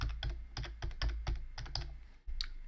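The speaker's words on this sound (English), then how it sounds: "down here, we're just going to type it again" Rapid keystrokes on a computer keyboard entering a project name, a quick run of close, crisp clicks with a brief gap near the end.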